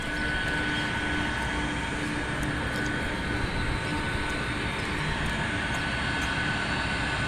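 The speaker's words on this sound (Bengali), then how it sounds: "এই বিমানটা আসতেছে" An airliner rolls along a taxiway at Dhaka airport, producing a continuous, fairly loud engine rumble and whine that stays even throughout with no voices.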